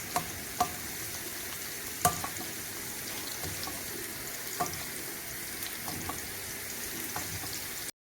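Beef steaks fry in a pan with unsalted butter over medium heat, giving a soft steady sizzle with a few light clicks and taps from utensils.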